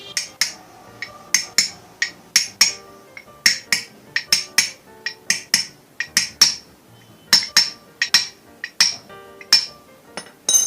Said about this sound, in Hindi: इसके ऊपर से इस बेयरिंग को भी ठोक देंगे